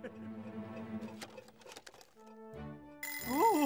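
A bright mechanical ringing bursts in near the end, loud and continuous, after a stretch of speech and a low musical background.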